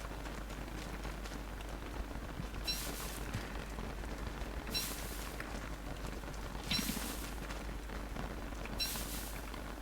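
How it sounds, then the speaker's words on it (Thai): Steady rain falls in the video game Don't Starve Together, a soft continuous hiss throughout with a few brighter gusts swelling at regular intervals, no voices over it. "แต่ฝนตกนะ"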